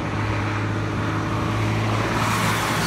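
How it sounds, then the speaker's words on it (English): A loud truck roars past close by, a continuous heavy rumble of engine and road noise that fills the whole moment steadily, with no voices over it. "that truck is mad loud"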